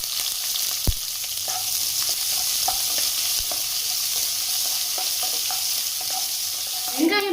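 Chopped onion and garlic cloves fry in hot oil with mustard seeds in a pan for ridge gourd poriyal, giving a steady close sizzle. A spoon stirs and scrapes now and then, with one sharp knock early on.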